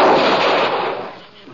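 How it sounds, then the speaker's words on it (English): Gunfire in an old-time Western radio drama, a loud burst of shots echoing across a quiet town, with a dense roaring blast that trails off over a second or so. "the shots weren't coming from inside"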